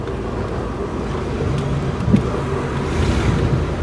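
A 1962 Corvette, just revived after years of sitting, driving along with a steady low engine drone and road rumble, close and continuous with no talking.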